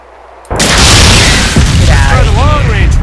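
A launcher rocket from Arma 2's DayZ Mod strikes its target: one sudden, loud blast after a brief quiet lead-in, then a heavy rolling rumble with faint whistling tones above it.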